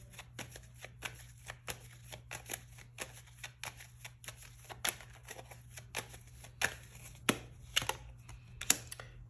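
Tarot cards are shuffled and drawn by hand, a steady run of crisp, close riffling snaps and flicks, some sharper than others, with no talking.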